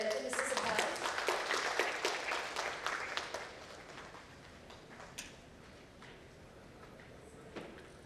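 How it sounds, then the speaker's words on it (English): An audience at a corporate CSR summit and awards event applauds to welcome a speaker, the dense clapping loudest at first and thinning out after about four seconds into scattered claps. "can we have a huge round of applause to welcome Mr. Siddharth?"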